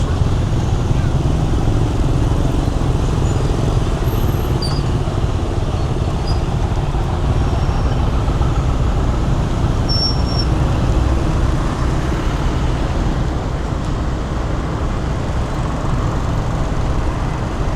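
Busy roadway traffic in Cambodia with a transit bus nearby, a steady loud rumble of engines and passing vehicles, motorcycles among them, running continuously throughout.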